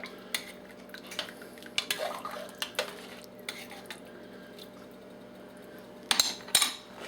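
Metal spoon scraping and clinking against a pot of shrimp and andouille sausage gumbo, scattered stirring knocks with a louder burst of clatter near the end, fairly quiet and alone.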